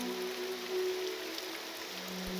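Pouring rain in the Morrowind video game makes a steady, dense hiss of falling water, with a faint low tonal hum running beneath it.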